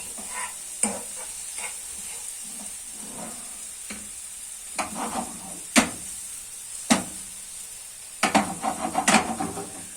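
Eggs being stirred into a frying pan for menemen: a steady soft sizzle with irregular scraping clicks and taps of the utensil against the pan, bunching into a quick flurry near the end, close and moderately quiet.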